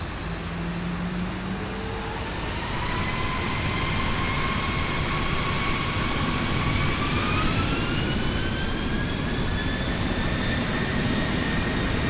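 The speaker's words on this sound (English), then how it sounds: "definitely more realistic in terms of engine noise" A jet airliner's engines roar in the X-Plane 11 flight simulator, a loud continuous broadband rush with whining tones slowly rising in pitch as power builds for takeoff, no talking.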